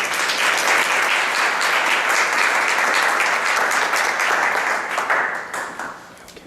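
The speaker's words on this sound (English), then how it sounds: "Dr. Francisco Peña, let's give him a round of applause" Sustained audience applause for a doctor introduced at a medical presentation in Laredo, dense and steady clapping that fills the room before thinning out and fading over the last second.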